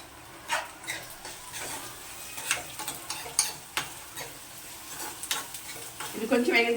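Garlic slices frying in a pan, a close sizzle punctuated by irregular crackles and spatters, with a brighter burst of hissing toward the end.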